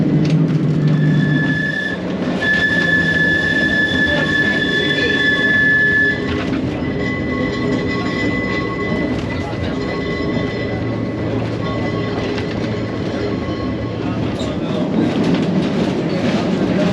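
Manx Electric Railway tram rolling along on the Isle of Man, a steady rumbling ride with high, drawn-out wheel squeals from the rails and rhythmic clatter, heard from on board with people talking quietly.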